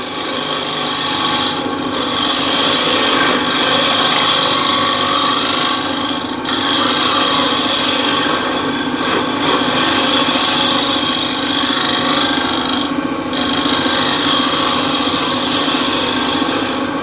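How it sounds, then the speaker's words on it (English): A freshly burred scraper, 25 mm wide and 10 mm thick, cuts across the bottom of a wooden bowl on a lathe, partly through punky timber. It makes a steady, loud rasping scrape for the whole stretch, with a few brief pauses and no voices. "for the bottom here, I like to use scraper, fresh burr on the scraper"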